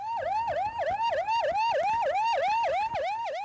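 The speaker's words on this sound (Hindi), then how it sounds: "जहां सायरन बजता रहा" An ambulance siren wails in heavy traffic at the ITO crossing, a loud, close, steady rising-and-falling cycle repeating about every third of a second over faint road noise.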